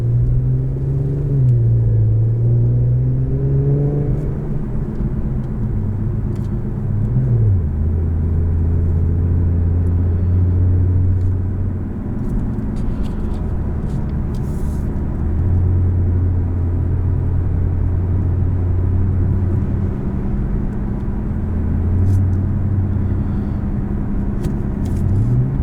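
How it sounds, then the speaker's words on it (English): The 3-liter twin-turbo V6 of a 2019 Infiniti Q50 Red Sport 400 rumbles steadily from inside the cabin, its low drone rising and falling with gear changes and throttle over a constant road roar. "it's the same basic engine that's in the normal Q50, the 3-liter twin-turbo 6"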